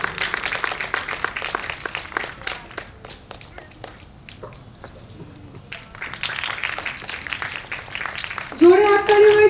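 An audience at an annual recitation-class function applauds the organiser Tania, a lively wash of clapping that dips and rises again, ending with a voice over a microphone.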